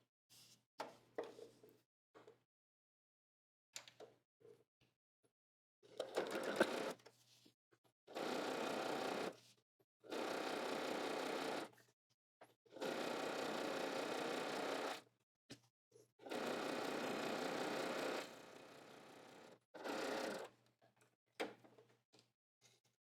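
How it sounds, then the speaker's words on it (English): A sewing machine stitching the hem of an apron, running in several steady bursts of a few seconds each, separated by quiet pauses and small handling clicks, close and fairly loud with no voices. "I'm going to stitch off, cut my thread, and then turn to the bottom"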